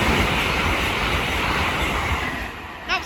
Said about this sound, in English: The first is going to be a Hull Trains class 802 Paragon from Hull to London King's Cross